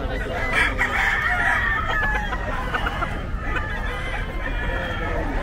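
Fighting rooster crowing at the Bocaue pet market, loud and close, set against a busy market murmur with people talking in the background.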